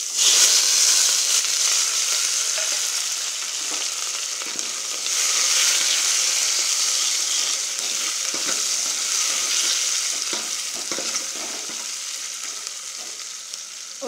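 Onion, tomato, curry leaves and coriander crackle and sizzle in hot oil in a pan while tempering for a Tamil fish kulambu, a continuous close frying hiss with stirring and no voices.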